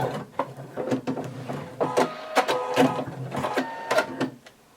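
A sewing machine backstitches a seam on a little black dress. Its rapid mechanical clatter runs close and fairly loud in uneven bursts, with short pauses before it stops.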